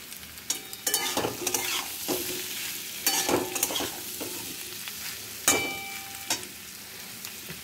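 Paneer curry sizzles in a pan while a spoon scrapes and stirs it, with irregular clattering strokes over a steady frying hiss, close and moderately loud with no talk.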